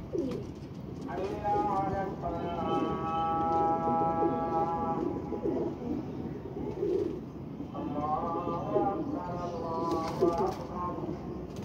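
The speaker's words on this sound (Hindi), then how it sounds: "ये भी दोस्तों कबूतरी चेक करें माशाल्लाह" Pigeons coo in repeated soft, throaty phrases, close by and fairly quiet, with a few faint chirps and background rustle between the calls.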